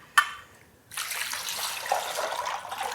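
Cold water running from a kitchen tap while mozzarella is being made at home, a steady close rush of flowing water that starts after a brief clink and continues to the end.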